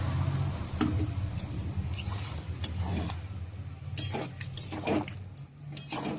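Ground spice paste and water going into a hot pan for a vegetarian lentil omelette curry, giving a steady close sizzle with scattered ticks and stirring clatter throughout.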